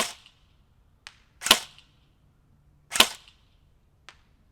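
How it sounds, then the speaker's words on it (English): Single shots from a JG full metal AK AMD-65 airsoft rifle ring out outdoors, two louder sharp snaps with faint clicks between them, widely spaced and close by, with no talking. "So we are shooting a little bit to the left."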